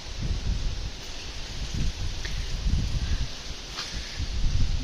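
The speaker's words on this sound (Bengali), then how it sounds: "প্রচণ্ড হাওয়া দিচ্ছে মানে লু বইছে পুরো" Strong hot summer wind (loo) blowing outdoors past drumstick trees, a steady low rumbling gust noise with rustling leaves, continuous and fairly close to the microphone.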